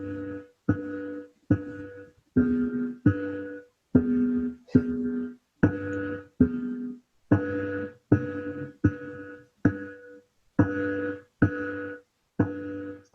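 A melody played as a steady sequence of short synthesized electronic notes, each a crisp tone separated by brief silences, in a regular rhythm with no other sound.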